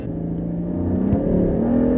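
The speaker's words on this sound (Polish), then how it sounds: "Jezu, jaki to jest wydech!" A BMW M4 sports car's exhaust roars as the engine revs up, close and loud, with a brief sharp pop partway through.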